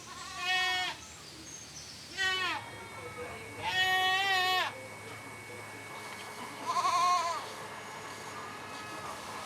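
Goats bleating on a family farm in France's Loire Valley, four separate wavering calls spread across the stretch over a steady low background hum, moderately close and not loud.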